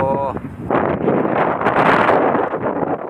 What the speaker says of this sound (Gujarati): પવનનો અવાજ કેવો આવે